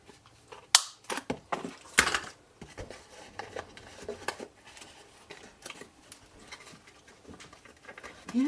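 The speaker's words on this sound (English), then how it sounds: "Still doesn't want to punch through even though I've just emptied it." A paper punch working through cardstock for a hexagonal box, with a series of sharp, close clicks and crunches in the first few seconds, then lighter scattered handling noises and rustles.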